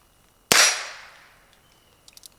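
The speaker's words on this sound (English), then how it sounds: "I'm going to shoot the steel. I'm going to shoot the rest of my rounds" A single sharp revolver shot rings out at an outdoor range, its crack followed by a decaying ring as the steel target is struck, then a few faint light clicks and taps.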